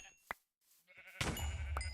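A sheep bleats in Minecraft's GregTech New Horizons modpack, a short nasal call amid brief game clicks and rustles.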